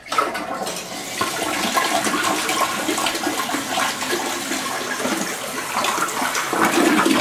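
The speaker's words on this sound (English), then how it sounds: "Okay, so we give it a flush." A toilet with a newly replaced fill valve is flushed nearby, a loud rushing gush of draining water that continues as a steady churning refill through the end.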